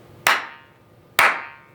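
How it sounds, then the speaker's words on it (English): Two sharp hand claps ring out about a second apart in a music studio room with flat walls and ceiling, each clap decaying quickly into a brief room echo. "Let's do some clapping."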